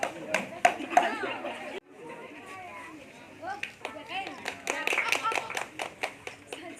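An audience claps at a student felicitation ceremony, the applause coming in bursts that build toward the end, mixed with chatter and voices.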